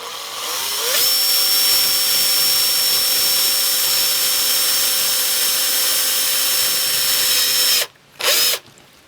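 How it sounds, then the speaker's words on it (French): A cordless power screwdriver drives screws into a board set about 5.5 cm from the edge, whirring loudly and steadily for several seconds close by, then cutting out, briefly revving again and stopping. "On prend les vis, la visseuse. Voilà, donc là, on visse."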